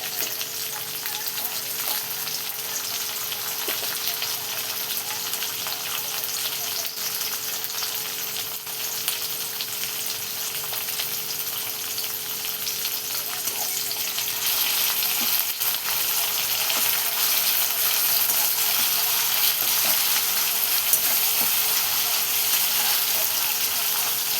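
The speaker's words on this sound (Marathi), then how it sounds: "आणि छान असा आपण परतून घेऊया सगळं टमाटर मिरच्या आणि लसूण" Tomatoes, green chillies and garlic sauté in oil in a pan, a continuous close sizzle and crackle that grows slightly louder and brighter partway through, with occasional faint stirring clicks.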